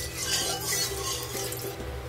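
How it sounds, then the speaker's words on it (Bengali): Oil is swirled around a hot kadai, producing soft metallic scraping and faint sizzling in a steady, close kitchen wash with no voices. "তেলটা দিয়ে কড়াইয়ের চারপাশে এভাবে লাগিয়ে দেবো"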